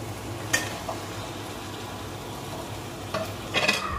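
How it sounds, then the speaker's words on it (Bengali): Fish heads fry with tomato and spices in a pan, a low steady sizzle punctuated by a few spatula stirs and scrapes near the start and end, close by with no talk. "এটা আরো প্রায় 4 থেকে 5 মিনিট মশলার সাথে ভেজে নেব।"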